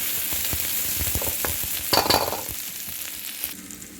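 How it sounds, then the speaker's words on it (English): A paste of coriander leaves, ginger, garlic and green chili frying in a pan, with a crackling sizzle and spatula stirs, and a brief louder spit in the middle before it settles and fades slightly. "We are going to add it to the pan or the yolk"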